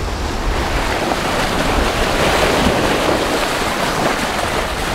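Steady wind and rolling waves wash around a sailboat under sail at sea on a 20-knot breeze, a continuous loud rush of water and wind noise with no voices.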